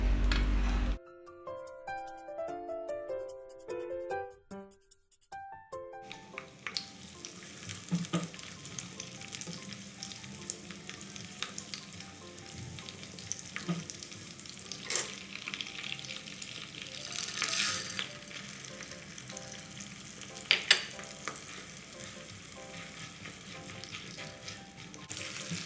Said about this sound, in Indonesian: Semua bahan ini digoreng sampai matang.